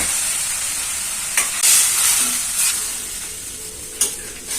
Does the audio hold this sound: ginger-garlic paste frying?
yes